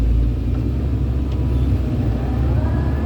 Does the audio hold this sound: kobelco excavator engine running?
yes